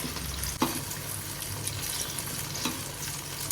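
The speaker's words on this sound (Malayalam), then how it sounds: "ഇനി നല്ലപോലെ എണ്ണയിൽ കിടന്ന് അടുത്ത ഭാഗവും നല്ലപോലെ വെന്ത് പാകമാണ്" Banana fritters (pazhampori) fry in hot oil with a steady, soft sizzle and crackle, a continuous bubbling hiss broken by a couple of faint clicks and no voices.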